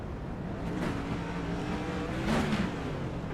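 A race car in an All American Racing League event at Dover Motor Speedway passes by, its engine roar steady and fairly loud, swelling near the end.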